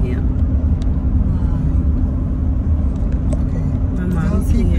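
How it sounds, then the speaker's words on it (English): A car's interior fills with a steady, loud low driving rumble as it rolls along, with people chatting over the engine and road noise. "I'm in the car."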